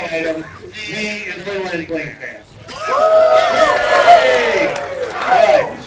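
A live crowd at a League of Legends esports match breaks into loud cheering and shouting, swelling after an excited voice over the crowd.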